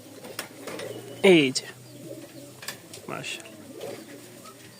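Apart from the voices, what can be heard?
pair of Giribaj pigeons cooing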